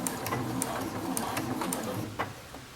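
A sewing machine back stitches a shirt seam, running in a steady close mechanical patter with short rhythmic ticks, moderately quiet and without talking.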